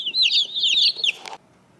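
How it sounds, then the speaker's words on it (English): High-pitched chirping clucks from young meat chickens, a continuous close chatter that stops abruptly near the end. "But meat chickens are here, guys."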